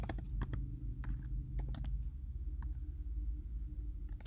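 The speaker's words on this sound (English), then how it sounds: "And as I'm typing this, I'm realizing that with arrays of characters, you can't just do in a simple assignment statement." Computer keyboard typing while coding in C, a run of close, crisp key clicks in irregular bursts over a low steady background hum.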